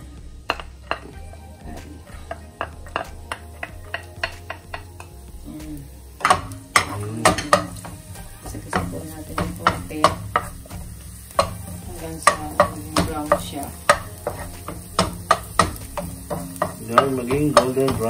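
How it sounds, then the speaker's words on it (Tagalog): Garlic frying in olive oil in a pan at home, a soft continuous sizzle broken by repeated sharp scrapes and taps of a utensil stirring against the pan, close and clear. "Lagay ko na po ang garlic."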